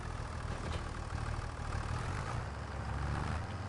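A tractor engine idles in the Calm Lands farming game, a steady low rumble with slight fluctuations that stays close and constant, no talking.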